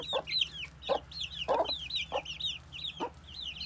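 Backyard hens cluck close by in short repeated bursts, with several soft calls overlapping and one louder cluck in the middle.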